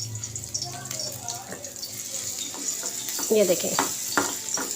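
Garlic and ginger fry in a hot frying pan, giving a steady sizzle with occasional stirring scrapes, while someone talks briefly over it.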